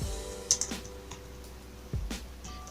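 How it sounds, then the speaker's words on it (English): Soft keystrokes on a computer keyboard come in two short bursts, quiet and close, during Photoshop calendar design work, with no talk over them. "I'll just type the quote"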